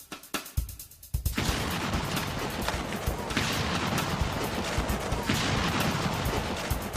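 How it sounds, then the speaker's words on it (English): A cannon fired at a replica Alamo wall: scattered sharp reports open, then a heavy blast gives way to a dense, continuous rumble of impact and debris that stays loud to the end. "Then the test of cannon versus wall gets underway."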